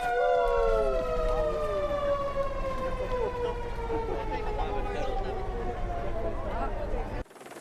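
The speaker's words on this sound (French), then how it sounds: "Il va y avoir un klaxon sur le camion de pompiers." A fire truck siren wails in a long descending tone with rich harmonics, loud and steady for several seconds before cutting off, with crowd voices murmuring underneath.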